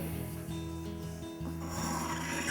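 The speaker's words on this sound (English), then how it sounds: "I'll take my diamond sharpener and just release that burr on the back side just a little bit." A diamond sharpener is drawn across the back of a chisel to remove the burr, giving a close, continuous gritty rasping rub with a slight break midway.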